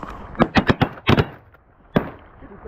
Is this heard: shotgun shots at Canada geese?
yes